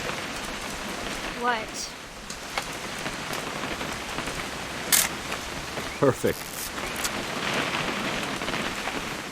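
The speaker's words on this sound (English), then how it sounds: "It's gonna rain the whole weekend, isn't it?" Steady rain patters throughout with a faint rumble of thunder in the video game What Remains of Edith Finch, while a couple of people speak briefly over it.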